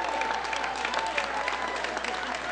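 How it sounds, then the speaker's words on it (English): A crowd at a congressman's reelection event claps for family members stepping forward, producing a steady wash of applause with some voices mixed in. "a round of applause"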